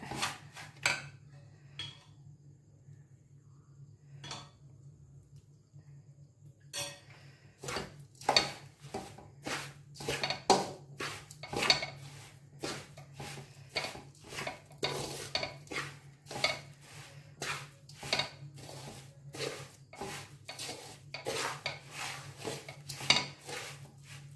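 A spoon stirs and mixes pickle in a pot, giving a long run of quiet, regular scraping and clinking strokes that follow a brief near-silent pause. A low steady hum sits underneath throughout.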